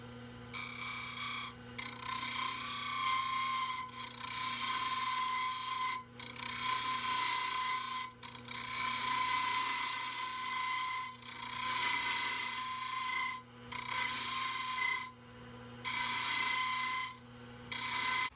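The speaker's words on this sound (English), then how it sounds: "use my bowl gouge and add a little bit of a flare right here up toward the lip, and kind of round over these edges a little bit" A bowl gouge cuts a walnut pencil holder spinning on a wood lathe, flaring the inner lip and rounding over the edges. Steady rasping scrape over a constant motor hum, broken by several brief pauses between passes.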